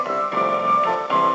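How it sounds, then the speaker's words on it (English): AFC tone from a Commodore solid state transistor radio, a steady buzzy electronic tone with bright harmonics that wavers slightly in pitch, heard alone and moderately loud. "Then there's this AFC tone"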